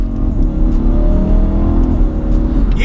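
BMW E92 M3 fitted with an Eventuri intake, its engine revving hard and loud close by in a short, sustained burst with no talking.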